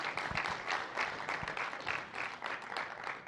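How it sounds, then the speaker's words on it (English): Scattered audience clapping at a university research presentation finals, rather faint and uneven, with individual claps and soft pulses rising and falling over a few seconds. "So let's give these students one more big round of applause and congratulate them on a job well done."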